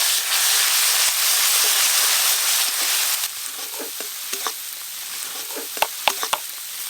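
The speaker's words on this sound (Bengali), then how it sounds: "গরম তেলে আদা রসুন দিয়ে একটু ভাজা ভাজা করে নিয়েছি" Hot oil with ginger and garlic sizzles in a pan, a steady loud hiss in the first half that drops away, followed by scattered crackles and light stirring clicks close by.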